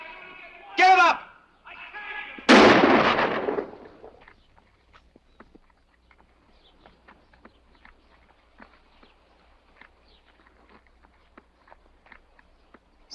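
A gunshot in a 1950 western film, a single sharp loud crack that rings out briefly after someone shouts, then fades into quiet with faint scattered ticks and movement.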